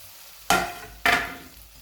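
Two sharp scraping stirs, about half a second apart, as soybeans are turned through spiced oil masala in a pan, each stroke ending in a fading sizzle over a quiet background.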